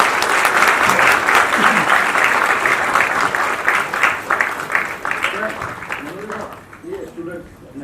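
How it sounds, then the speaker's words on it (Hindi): Loud, sustained audience clapping at a lamp lighting ceremony during a youth exchange programme in Mumbai, dense and steady for most of the stretch before thinning out near the end. "इस दीप प्रज्वलन में जोरदार तालियों के साथ हम सम्मिलित हो"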